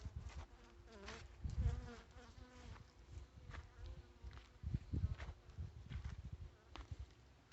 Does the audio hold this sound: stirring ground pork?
no